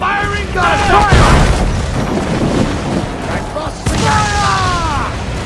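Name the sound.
ship guns firing a volley, from video game Assassin's Creed 4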